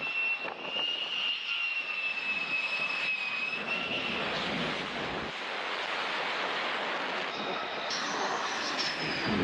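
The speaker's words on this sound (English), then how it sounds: "we've got planes landing on the USS Abraham Lincoln" Jet planes landing on the aircraft carrier USS Abraham Lincoln give a loud, continuous roar with a high whine that fades, then rises again near the end, alone with no talk.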